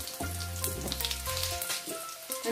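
Cumin seeds and urad dal sizzle in hot oil, a close, steady frying hiss mixed with low tonal hums that sound like music or a voice beneath it.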